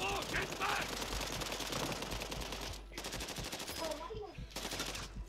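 Rapid automatic gunfire in a Call of Duty Warzone match crackles almost without pause, loud and dense, with brief lulls, while players talk over it.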